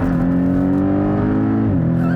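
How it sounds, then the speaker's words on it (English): A 2018 Porsche 718 Cayman GTS engine heard from inside the cabin, a loud sustained throaty drone that holds steady and then drops in pitch near the end as the revs fall during a gearchange. "listen to the way this thing rev matches"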